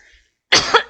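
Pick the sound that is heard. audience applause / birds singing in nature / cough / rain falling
cough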